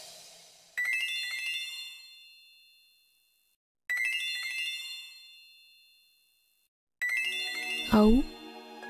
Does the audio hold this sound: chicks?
no